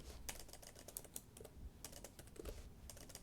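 Rapid typing on a computer keyboard while coding in Vim, a dense run of irregular key clicks close to the mic with a few louder presses and no voices.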